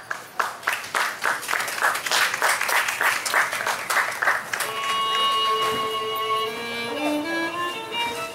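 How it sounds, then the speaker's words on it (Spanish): Audience applause at a live dance and music performance: crisp, steady clapping in a regular rhythm for about four seconds, then instrumental music takes over. "Demos un fuerte aplauso a nuestro primer live performance de esta tarde."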